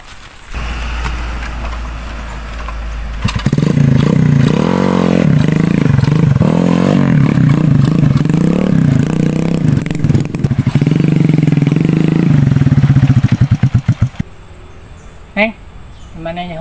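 A motorcycle engine runs close and loud, revving and rattling with fluctuating pitch for most of the stretch before cutting off, with voices faintly mixed in near the end.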